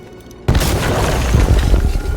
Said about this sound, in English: There was a grenade.